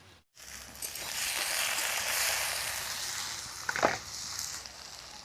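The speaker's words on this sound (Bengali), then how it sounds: "ঢাকা দিয়ে দিয়ে বেগুন আলুকে ভেজে নেব" Eggplant and potato pieces frying in a covered pan with onions, a steady close hiss of sizzling oil lasting throughout, with a brief louder crackle near the end.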